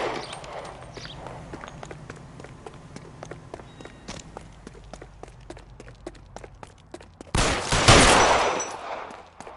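Gunshots in the L.A. Noire game: rapid regular cracks like footsteps and shots throughout, ending in a loud sustained burst of fire near the close, nearby and clear.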